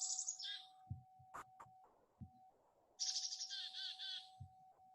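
Recorded chickadee calls, a few high whistled notes followed by buzzy, harmonic-rich D notes in short bursts, with faint low thumps in between, fairly quiet and alone.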